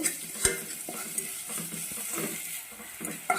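Green chilli paste stir-fries in oil with curry leaves for a quick avarekai palya, giving a soft steady sizzle broken by a few light scrapes and taps of a spoon against the pan, close and fairly quiet.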